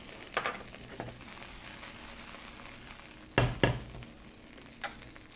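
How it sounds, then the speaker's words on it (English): Broccoli florets, ginger and shallot sizzle steadily in a stir-fry pan, a constant close frying hiss broken by a few sharp clanks and scrapes of stirring, with no one talking. "So we're going to cook that just till the broccoli starts to turn bright green."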